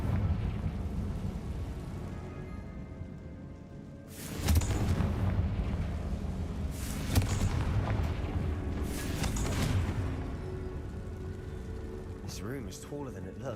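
Confringo spell blasts in Hogwarts Legacy, inside a tomb, with several heavy booming explosions and rumbling bursts spread across the scene while a voice speaks over them.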